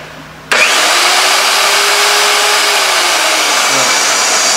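A new buffing machine switches on at its high speed setting, a loud, steady whirring roar that starts abruptly and holds constant throughout.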